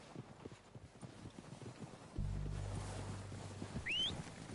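Horses' hooves clip-clop in Red Dead Redemption 2, a soft, steady patter under a low ambient rumble, fairly faint with a brief whistle-like sound near the end.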